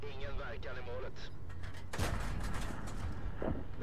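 A single heavy tank cannon blast in World of Tanks, booming loudly midway through amid background battle noise, with a voice talking beforehand.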